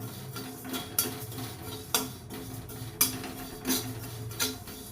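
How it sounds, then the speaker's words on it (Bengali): Whole cumin seeds dry-roasting in a wok give light crackles alongside sharp metallic clinks of a spatula against the pan, landing roughly once a second over a low steady background. "দেখো এখানে আমার জিরেটা খুব ভালো ভাজা হয়ে গেছে, কড়াইয়ের মধ্যে চটপট চটপট আওয়াজ হচ্ছে"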